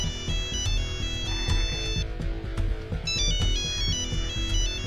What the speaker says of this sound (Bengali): শিখা আবার ফোন করেছে তো। ধরো।